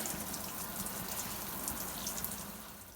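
Water runs steadily down the shower drain of a 2020 Thor Tellaro 20AT camper van during de-winterization, a continuous close hiss and splatter that fades slightly at the end, with no talking.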